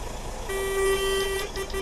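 Truck horn in Euro Truck Simulator 2, a single sustained steady blast lasting about a second, loud and close over a low engine rumble, followed by a couple of shorter toots.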